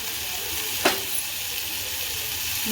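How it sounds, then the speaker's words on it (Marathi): Steady, fairly loud hiss of hot oil in a pan as turmeric, red chili powder and homemade Malvani masala go in for masoor dal, with one brief scrape of a spoon near the start. "तर याच्यात टाकूया हळद अर्धा चमचा एव्हरेस्टचं लाल तिखट घरगुती मालवणी मसाला"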